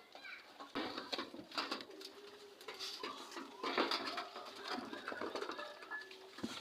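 Domestic pigeons coo in a backyard loft, soft repeated calls mixed with light pattering and fluttering close by, with no voices.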